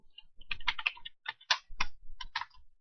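Someone types a password on a computer keyboard in short, irregular bursts of crisp key clicks, up close and fairly quiet, with no talking.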